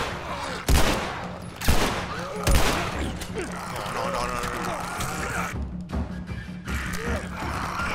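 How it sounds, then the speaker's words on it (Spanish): In The Last of Us video game, a machine gun fires three loud bursts of gunfire early on, followed by softer mechanical clatter and rumble, with a player talking throughout. "Dale, carga la ametralladora."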